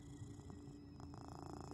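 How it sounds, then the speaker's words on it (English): A cat settles onto a lap and purrs low and steady, a close, continuous rumbling throb with a faint pulsing rhythm and no other sounds. "The cat immediately took advantage of the available lap, circling, then settling, issuing a low purr"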